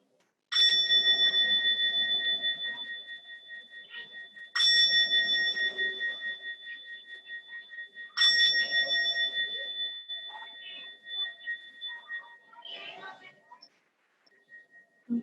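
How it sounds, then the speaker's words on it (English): A meditation bell is struck three times at a steady interval, each clear ringing tone sustained and slowly fading. The rings stand alone in a quiet room, with a few soft incidental sounds near the end. "we'll begin with bell and end with the bell"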